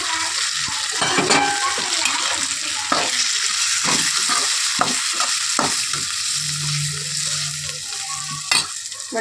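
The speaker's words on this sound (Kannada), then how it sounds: "ಗ್ಯಾಸ್ ಆಫ್ ಮಾಡಿಬಿಟ್ಟು ಧನಿಯಾ ಪೌಡ್ರು ಮತ್ತು ಚಿಲ್ಲಿ ಪೌಡ್ರ್ ಹಾಕೊತಾ ಇದ್ದೀನಿ" Coriander powder and chili powder are stirred into a hot pan after the gas is turned off, giving a soft sizzle with sharp spatula scrapes and taps against the metal, close and without talk.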